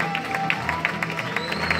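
Small audience clapping for a participant at a hypnosis show, a light, rhythmic patter of applause at moderate volume, heard beneath a faint tonal background sound.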